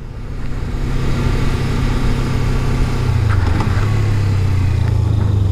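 A motorcycle engine drones steadily while riding, then a quick throttle blip raises the revs briefly before the pitch settles lower at a downshift, loud and close with no voices.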